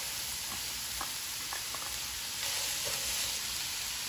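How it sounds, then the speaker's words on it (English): Two pounds of ground beef with a finely minced onion frying in a big electric skillet, a steady close hiss of sizzling with faint scattered pops and light stirring scrapes. "we're gonna put 2 pounds of ground beef in a big electric skillet"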